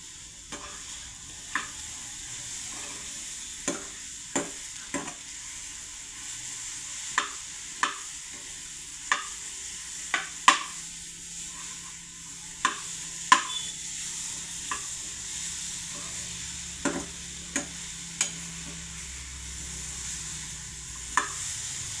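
Tapioca sautéing in ghee with sugar and ground cardamom for a kappa ada pradhaman, a steady soft sizzle under repeated sharp scrapes and taps of a spoon stirring the pan, no voices.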